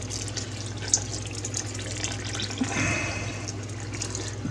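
Water is poured slowly into a Welbilt ABM 100 bread machine, giving a soft steady trickle close by with a few faint clinks and no talking.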